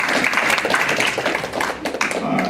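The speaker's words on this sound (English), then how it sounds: "I would like to take this moment to just ask us to all collectively clap for the great work that Sister Robinson has done" An audience at a Black history presentation applauds a speaker, a dense, continuous wash of many hands clapping at close range, holding steady throughout.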